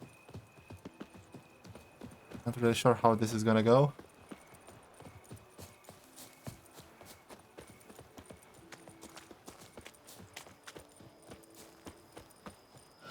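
Hooves clip-clop in The Witcher 3 as a horse trots during tourney practice, a short, loud burst of galloping before the pace settles into quieter, scattered hoof taps beneath a man's speech.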